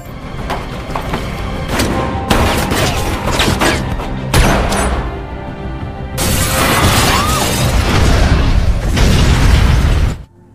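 Film battle audio with a shootout and an explosion: loud bursts of shattering, popping and booming blasts come in several dense waves over ten seconds, ending abruptly, with no talking.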